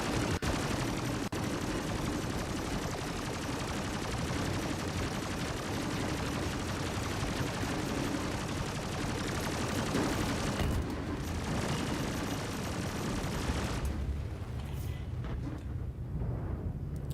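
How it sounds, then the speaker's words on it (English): Sustained ballistic turret gunfire in Star Citizen roars for over ten seconds as loud, relentless automatic fire, then drops off abruptly near the end. "those ballistic turrets are messing me up pretty bad here"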